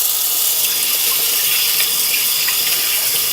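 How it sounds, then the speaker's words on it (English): Tap water runs steadily and loudly into a sink while hands are washed with bleach water and soap, a constant close hiss with no talking. "I'm washing my hands with bleach water"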